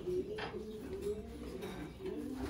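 Racing pigeons coo softly and repeatedly in low, throaty phrases against a busy background of rustling and faint clatter.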